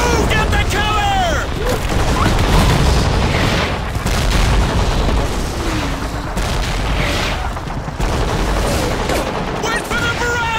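Artillery fire in the video game Call of Duty 2: dense, continuous booms and bursts of gunfire rumble throughout, loud and near, with shouted voices breaking through the barrage.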